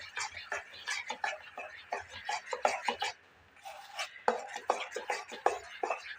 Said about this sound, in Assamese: এতিয়া এইখিনি ভালদৰে মিলাই ল'ম